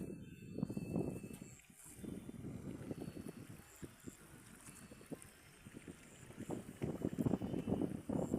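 Gusting wind rushes across open farm fields at dusk, buffeting the microphone in uneven swells, while a person speaks intermittently over it.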